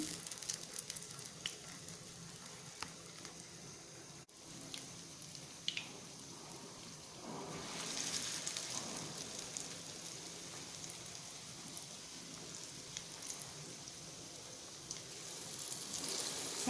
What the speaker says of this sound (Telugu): ఈ మిశ్రమాన్ని ఇలా ఉండల కింద చేసుకుని ఈ వేడెక్కిన నూనెలో ఈ విధంగా వేయడమేను